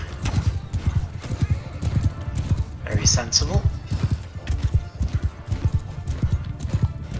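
Rapid hoofbeats of raiders' horses galloping away in Mount and Blade II: Bannerlord clatter loudly in a dense rhythm, with a horse whinnying briefly partway through while someone speaks a few words.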